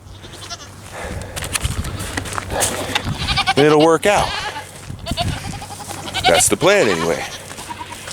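Goats bleating near a fence, a couple of loud wavering bleats standing out over wind noise while someone talks through the clip.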